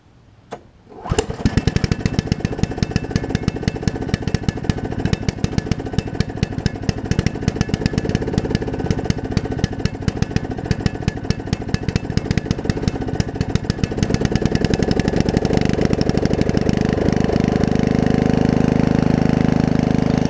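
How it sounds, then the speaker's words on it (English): A Snapper RER riding mower that had been stuck on choke cranks over and catches, its small engine running loud and steady with rapid firing pulses, then settling into a deeper, fuller idle near the end. "Let's see if it cranks now, I guess."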